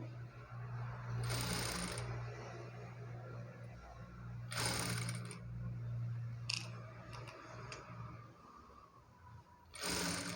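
A sewing machine stitches a blouse in long runs of steady motor hum, broken by brief bursts of cloth rustling and handling noise.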